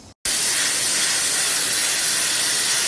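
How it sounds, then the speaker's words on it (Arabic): Pressure cooker releasing steam after cooking maqluba, a short quiet moment then a sudden loud, sustained rushing hiss close by, with no speech. "الحين نفرغ البخار، نبي نفتح قدرنا"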